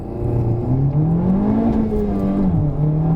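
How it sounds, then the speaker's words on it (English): A Honda Civic Type R pulls hard in first gear from inside the car, its engine note climbing smoothly and steadily before dipping slightly at the upshift. "We're going to start in 1st gear and we're going to accelerate."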